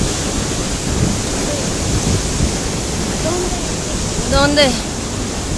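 The Basaseachi waterfall gives a steady broadband roar throughout, close and constant, while people talk over it.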